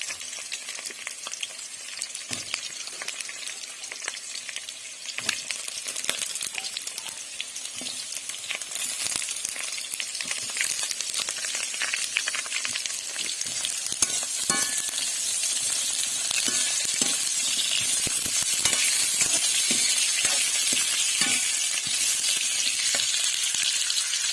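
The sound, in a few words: potatoes frying in a pan for mushroom curry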